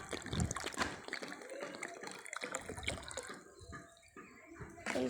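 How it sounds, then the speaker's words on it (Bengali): Water poured from a bottle, splashing and trickling up close in uneven bursts with drips, ending in a brief louder splash. "জল ঢালছি"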